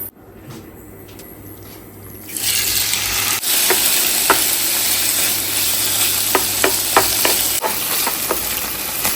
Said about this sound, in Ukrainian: Зараз розігріється сковорідка і буду е, додавати туди курку.